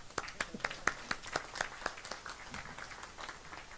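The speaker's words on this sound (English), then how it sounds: "So give one more applause for them." A small audience at an anniversary celebration claps in sharp, fairly even beats that thin out and fade after a few seconds.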